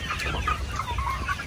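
Many chickens cluck together on a crowded farm of about 500 birds in a 300 square metre area, a dense, steady chorus of overlapping clucks close by.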